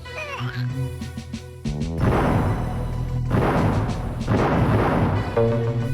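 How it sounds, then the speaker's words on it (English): Game music plays in the game Lemmings, then loud, crunchy explosions burst out one after another, each rumbling and crackling before the next. "I really love the explosion sound that you hear"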